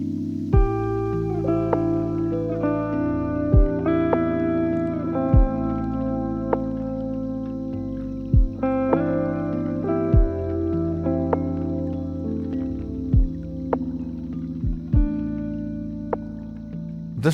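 Lo-fi music track with sustained chords, a steady beat of soft kicks, and a dry percussive tick running through it, playing alone at a moderate level with no voices.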